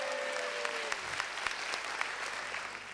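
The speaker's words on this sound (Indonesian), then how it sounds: "Tepuk tangan dulu dong." Loud, dense applause from a stand-up comedy audience in a hotel ballroom, sustained clapping throughout with a brief tone fading out at the start.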